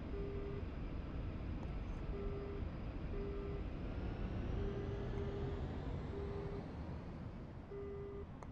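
Su-25T jet aircraft in a flight simulator video game, its engine giving a steady, loud, unbroken roar. Short repeated electronic beeps sound at intervals over the engine noise, and no one speaks.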